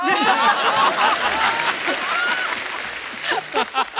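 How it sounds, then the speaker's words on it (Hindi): Studio audience on a Hindi cooking talk show applauds a guest, a loud sustained burst of clapping mixed with chuckles and crowd noise, a host's voice rising over it near the end. "जोरदार तालियां हमारे गेस्ट के लिए"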